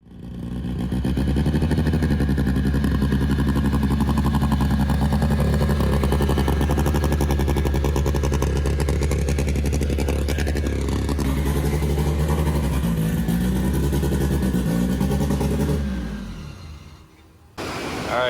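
A big-block engine in an all-wheel-drive Honda Civic rumbles loudly and steadily, its revs rising and falling for about fifteen seconds before cutting off near the end.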